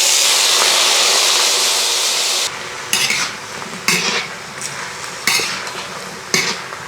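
Raw banana pieces added to a hot pan of popped mustard seeds, a loud steady sizzle that drops off as spoon scrapes and clatters against the pan start, up close.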